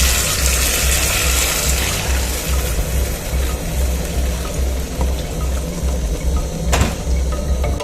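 Water pours steadily into a pot of Kenyan-style stew of meat with garlic and tomato paste, a loud continuous rushing gush that barely varies for the whole stretch.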